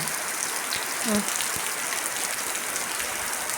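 Steady rain falls outdoors in a constant, even hiss of drops on surfaces. Near the start there is a brief faint tonal sound.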